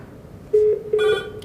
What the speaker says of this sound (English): 207 rings.